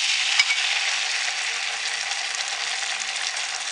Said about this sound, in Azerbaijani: Təqribən 3-4 dəqiqəyə qədər soğanla birlikdə yağda qızardıram.